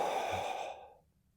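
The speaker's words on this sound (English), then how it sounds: "the out breath is audible, so it's like you're trying to fog up a mirror" A single soft, audible out-breath, like fogging up a mirror, close and breathy, fading out over about a second.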